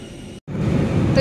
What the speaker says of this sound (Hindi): तो ये देखिए मैं बैठ गई हूँ और फ्लाइट ने उड़ान भर ली